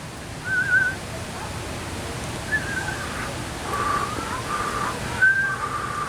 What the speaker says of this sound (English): I can't whistle very well at all.